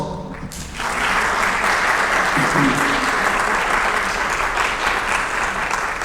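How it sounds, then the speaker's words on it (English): Applause from a university audience swells in after a short lull with faint voices, then continues as steady, full clapping to the end. "Another round of applause."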